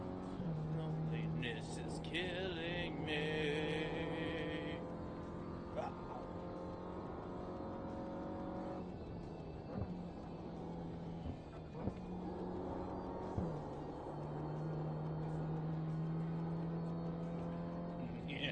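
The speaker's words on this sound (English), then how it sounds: "Little turbo toots." A race car in a racing video game drones with a steady engine tone and occasional turbo bursts, running under a voice talking over it throughout.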